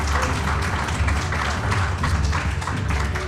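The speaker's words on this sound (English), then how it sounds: "Yeah, big round of applause" Studio audience applauding at a live Green Bay Packers clubhouse event, a steady dense wash of clapping filling the whole moment without pause.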